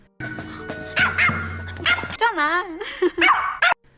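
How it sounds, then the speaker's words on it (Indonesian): A dog barks and yips repeatedly in quick, uneven bursts, mixed with whiny, wavering vocal sounds nearby. "si Koko ngeliat, jadi ngegonggong terus"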